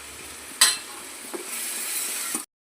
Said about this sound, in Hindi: तड़का लग गया